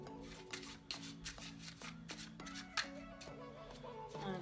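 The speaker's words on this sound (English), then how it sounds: "And a few more shuffles." Playing cards shuffled repeatedly up close, a rapid series of crisp riffling bursts in a steady rhythm.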